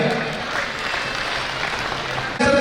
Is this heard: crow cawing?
no